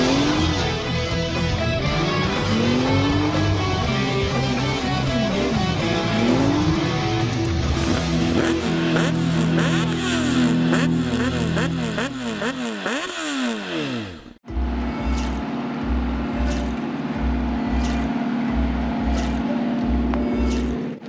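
A Yamaha MT 125 motorcycle revs repeatedly, its engine pitch sweeping up and down in close, loud bursts, then cuts to a rhythmic idle with regular pulsing thumps.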